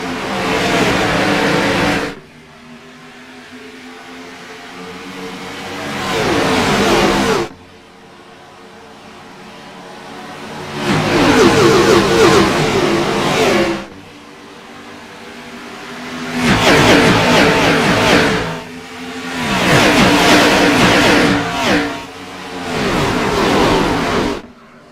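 Gen 6 Cup Series stock cars at Homestead-Miami Speedway roar past one after another, each engine note swelling loud then fading, with short quiet gaps between the passing groups.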